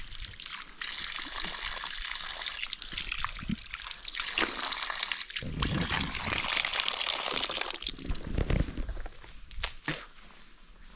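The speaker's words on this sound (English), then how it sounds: "And it's raining today." Rainwater trickles and splatters close by in a steady, uneven wash of drips and small gushes that swells at times, with no clear talking over it.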